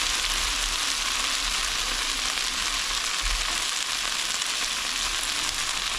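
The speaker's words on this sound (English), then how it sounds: "So it's going to take about 5 minutes or so to brown up all this chicken." Chicken pieces sear in a hot pan, with a loud, continuous, close-up sizzle of frying fat that holds steady throughout and has no talking over it.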